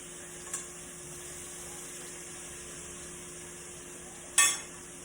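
Thin pork chops fry in a pan with a faint, steady sizzle throughout, broken by a light knock early on and a sharper metallic clink near the end, with no talking.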